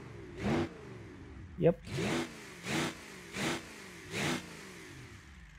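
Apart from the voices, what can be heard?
V8 diesel engine exhaust revving in video game Automation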